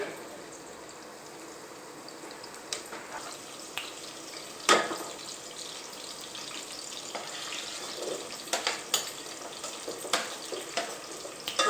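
Beans and other vegetables sizzling and frying in a pan for a Sunday pulao, a steady hiss with occasional sharper crackles and stirring clatter, close and moderately loud without talk.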